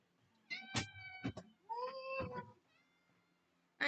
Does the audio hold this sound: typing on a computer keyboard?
no